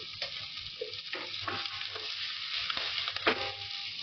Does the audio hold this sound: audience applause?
no